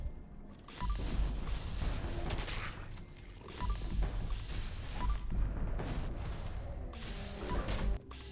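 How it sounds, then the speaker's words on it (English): Pistol gunfire in Fallout 76, a rapid run of sharp game shots against level 100 mutants, firing continuously with steady loud bursts and crashing impacts throughout, no talk. "You can kill the level 100 silver mutants in a couple of shots, and you can keep on firing this gun."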